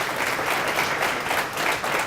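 An audience at a breast cancer webcast event gives a round of applause, a full, dense burst of clapping that runs steadily throughout, with no talking.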